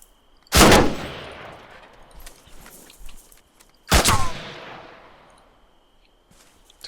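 Two loud, sharp gunshots from a modded HK416 rifle in ArmA 3, a few seconds apart, each followed by a long, echoing decay tail.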